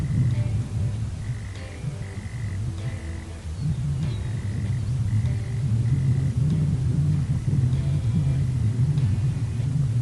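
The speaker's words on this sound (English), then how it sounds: "This is the sound of a single male prairie mole cricket call." A single male prairie mole cricket gives its mating call at sunset: a rhythmic series of short buzzing chirps repeated in regular bursts, heard outdoors over heavy low rumbling wind noise.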